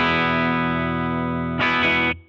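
An electric guitar plays through a Benson Germanium preamp into a Victory V40 Duchess amp with a touch of reverb, a loud sustained distorted chord followed by a brief strummed change before it cuts off.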